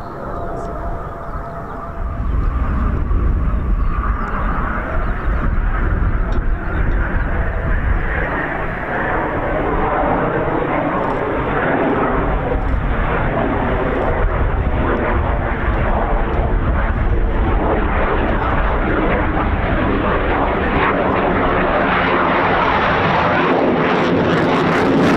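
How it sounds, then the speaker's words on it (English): An RAF Eurofighter Typhoon flies a slow, low-speed display over RAF Coningsby, a loud, sustained roaring jet rumble that swells and hangs overhead for over twenty seconds. "Brighty's Max Alpha, putting the Typhoon to as low as what,"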